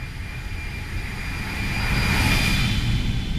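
Exterior engine sound of an Airbus A320 flying by in a flight simulator, a steady jet roar with a high whine that swells slightly toward the end.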